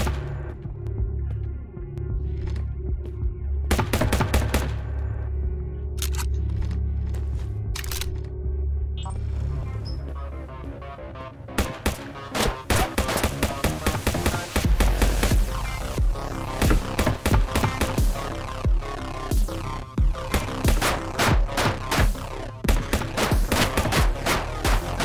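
Automatic rifle fire in the Shotwood VR shooter comes in sharp bursts and rapid volleys. The shots get denser and more continuous in the second half, with scattered single shots before that.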